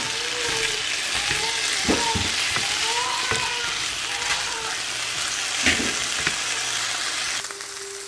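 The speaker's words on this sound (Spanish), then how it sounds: "se va a freír la cebolla, el tomate, el cilantro y el ajo" Onion, tomato, cilantro and garlic frying together in a pan, giving a continuous loud sizzle with scraping utensil strokes and occasional clinks, easing off near the end.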